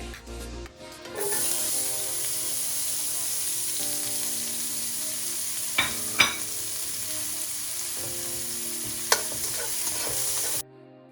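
Spring onions, ginger and garlic stir-fried in olive oil in a pan for a Chinese stir fry, with a steady loud sizzle and a few scraping clinks of a utensil against the pan, alone without talk.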